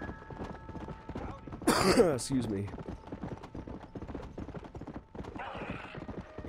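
A horse in Red Dead Redemption: Undead Nightmare gallops with rapid clip-clop hoofbeats and lets out a loud whinny partway through, while someone talks briefly over the hooves.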